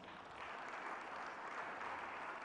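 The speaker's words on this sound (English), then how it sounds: "So, a round of applause again for the panelists." Audience applauds panelists at a plenary on restoring Africa's landscapes in Accra, a soft, even wash of distant clapping with no voices over it.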